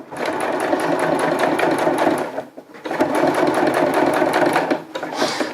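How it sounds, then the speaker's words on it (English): Sewing machine stitching around the edge of a fabric rain overmitt, a steady close-up whir with rapid needle rhythm, pausing briefly before running on again. "We're going to sew back around the big side of the mitt."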